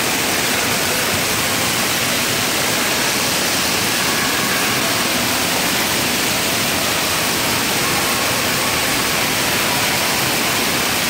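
Rushing water at a water park slide gives a dense, steady wash of noise that holds unchanged throughout, loud and close, with no voices standing out.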